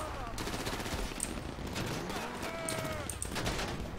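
Bursts of gunfire from the video game GTA 5 heist mission, rapid volleys of shots crackling close and loud over game noise, with people talking through much of it.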